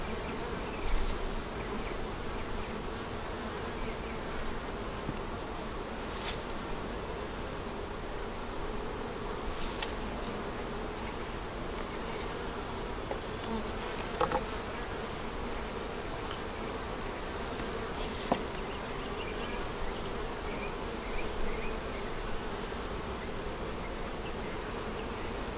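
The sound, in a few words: honey bees buzzing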